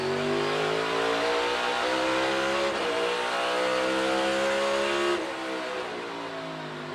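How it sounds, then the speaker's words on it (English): NASCAR race car engine at full throttle, a loud sustained roar climbing in pitch through two upshifts, each marked by a brief dip, then continuing under power with no voices. "You heard how hard he got onto the throttle."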